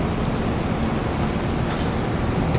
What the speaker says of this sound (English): The rain started just after the snow went.